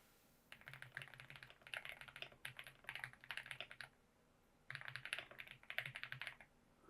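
Someone types on a computer keyboard at close range in several quick bursts of rapid key clicks, separated by short pauses, with no talk.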